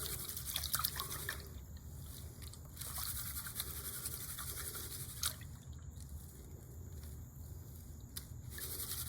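Gold panning in water by hand, a steady wash of swirling, dripping and trickling water with occasional gritty scrapes of material in the pan, continuous and close.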